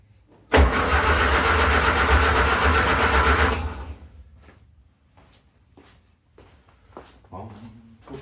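An old Austin A30/A35 engine, unstarted for a very long time, cranks loudly and steadily for about three seconds, then the cranking stops and leaves low clatter and a few faint knocks.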